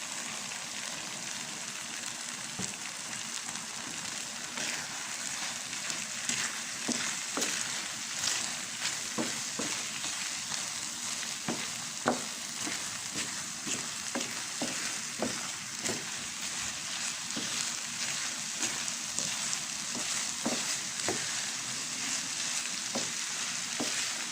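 An egg frying with ampalaya (bitter melon) in a pan, a steady bright sizzle with scattered crackles and pops throughout, close and continuous with no talking.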